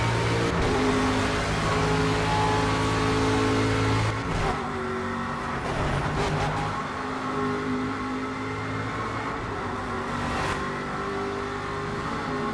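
An Aston Martin V8 Vantage GTE race car races opponents in the Project Cars video game, its V8 engine loud and close as it revs and pulls through shifts, with sharp drops in pitch between gears.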